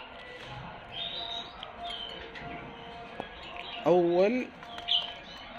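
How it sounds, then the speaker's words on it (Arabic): Tame Shirazi pigeons in Baghdad give a short, rolling, wavering coo partway through. Fainter chirps from other birds sit in the background, and someone briefly speaks. "طيور أليفة استوها بدأت تقرأ"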